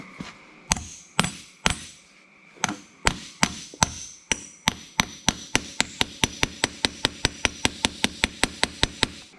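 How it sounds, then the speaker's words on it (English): A new seal is hammered into place on a truck spindle with an installation tool: sharp metallic blows, slow and irregular at first, then a fast steady run of evenly spaced strikes, close and loud. "So now let's get this new seal seated in here. With this installation tool I can just beat on."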